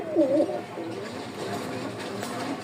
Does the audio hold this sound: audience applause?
no